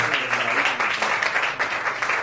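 Broad, steady clapping from a church congregation during a Telugu Christian sermon, a dense wash of many hands filling the whole stretch without a break, loud and close.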